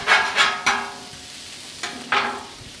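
Shrimp fry crisply in hot oil in a pan, with several short bursts of sizzle and clatter as they are stirred and flipped, outdoors in the heat.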